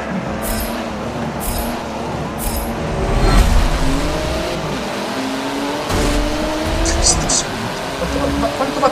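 A race car engine from Forza Motorsport 7 roars loudly and continuously, with rising and falling pitch as it revs and shifts; a voice talks underneath.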